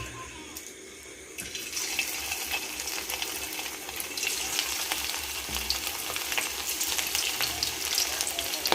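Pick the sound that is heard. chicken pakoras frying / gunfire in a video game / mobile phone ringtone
chicken pakoras frying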